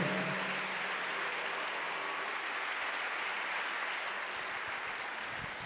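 A church congregation claps together in a sustained, dense wash of applause that stays even throughout, with barely any voice.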